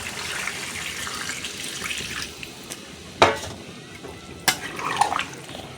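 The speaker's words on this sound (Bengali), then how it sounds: "তো এখন আমি জল দিয়ে দেবো।" Water is poured into a pan of frying chicken curry, giving a steady hissing splash with a few sharp clinks and bubbling surges, heard close up without talking.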